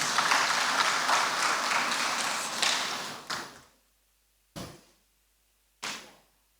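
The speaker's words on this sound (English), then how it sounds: "Please, let's give him another round of applause." A hall audience at a national flood outlook event on water resources management gives a round of applause that rolls on for a few seconds, then fades out, followed by two sharp isolated knocks in near silence.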